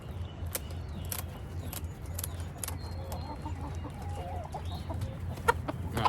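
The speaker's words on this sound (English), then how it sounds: "Green Bean's an old chicken." An old backyard hen on a homestead clucks softly in short bursts, moderately close, against steady outdoor ambience with some bird sounds and no one talking.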